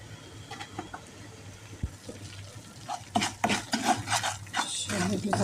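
Flour being stirred and roasted in melted butter in a pan with a spoon, soft scraping strokes that grow busier and louder in the second half, set over a steady low hum.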